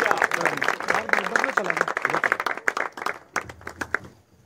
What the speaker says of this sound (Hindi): आपकी जोरदार तालियां